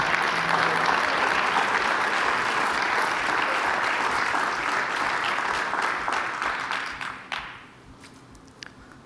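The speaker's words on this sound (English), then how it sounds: "Give them a big round of applause" Audience giving a big round of applause to a panel taking the stage at a memorial event, dense sustained clapping that thins out and fades toward the end.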